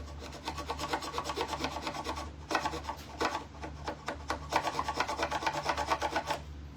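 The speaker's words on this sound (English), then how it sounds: "My inclination is my carbide scraper, y'all." A carbide scraper working wood for a flip-top sewing table, in repeated rhythmic rasping strokes, close and fairly loud, with brief pauses between bursts.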